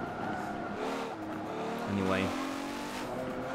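An Aston Martin V12 Zagato races in Forza 7, its engine droning steadily throughout, with a short rising squeal of tyres partway through and a voice speaking briefly over the car.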